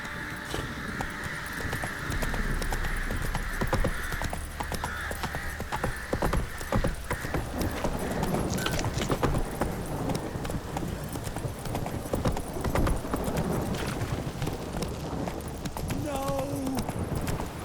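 Horse hooves clip-clop steadily in the Witcher 3: Wild Hunt game, a continuous close trotting rhythm under game ambience, with a brief squeal near the end.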